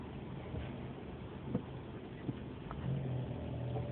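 Car engine hum and road rumble from inside a moving car on the way to an emergency vet visit, steady and low with a couple of soft bumps and a brief rise in engine tone near the end.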